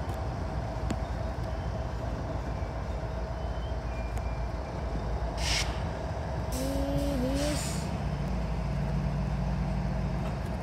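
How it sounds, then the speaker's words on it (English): A CSX freight train grinds with a steady loud rumble as it goes into emergency braking, with bursts of hissing air and a brief rising squeal near the end, heard close by at a grade crossing. "This train just went into emergency."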